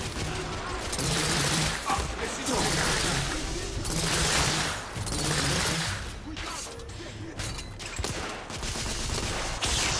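Rapid bursts of gunfire in The Order: 1886 rattle almost continuously over a dense, noisy game soundscape, with brief pauses between volleys.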